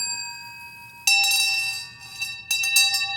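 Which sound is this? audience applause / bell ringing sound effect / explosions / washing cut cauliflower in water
bell ringing sound effect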